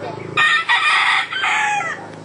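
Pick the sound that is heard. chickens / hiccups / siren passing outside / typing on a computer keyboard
chickens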